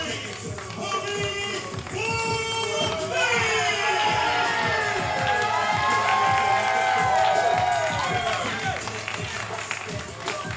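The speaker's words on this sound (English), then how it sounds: "You can just hear the adulation from the crowd." A video game crowd cheers and roars steadily for the whole stretch, a dense wash of voices mixed with other busy game sounds.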